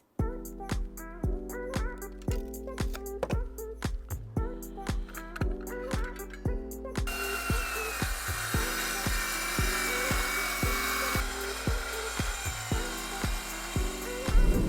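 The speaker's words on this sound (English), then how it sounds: "I'm going to take this piece of beech now, rip it down to our desired width for the handle" A saw rips a piece of beech wood down to width for a mallet handle, giving a steady whining cut with rhythmic surges as the board is fed, running loud and close throughout.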